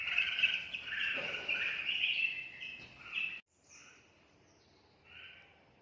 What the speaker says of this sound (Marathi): हे आहे 2 बुलबुल पक्षी.